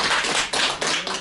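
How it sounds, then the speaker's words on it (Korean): An audience claps together at a Buddhist Dharma talk, a brief, loud, dense burst of many hands lasting just over a second, close and with no talking. "박수 한번 치세요."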